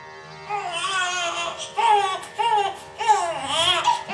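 A storyteller's voice imitates a baby crying, with several wavering wails in bursts, close and fairly loud, each cry rising and falling like an infant's sob.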